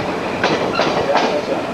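A train from the St. Thomas and Ingersoll line running on rails close by during a festival, a loud steady rumble with a few rhythmic clacks over under two seconds.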